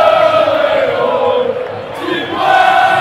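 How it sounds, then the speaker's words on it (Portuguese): A Corinthians football crowd roars and shouts together inside the stadium, a dense, steady wall of cheering that dips briefly near the end and then swells again. No speech is heard. "a torcida explodiu de vez"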